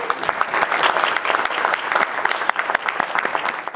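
An audience at a teaching experience presentation claps steadily, a dense wash of applause from a moderate-sized crowd that carries on without pause.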